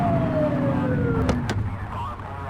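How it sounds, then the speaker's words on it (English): Police car siren in the video game The Precinct, a wailing tone sliding over a running engine and traffic noise, with a couple of short sharp blips midway. "Get on their tail and flip the siren."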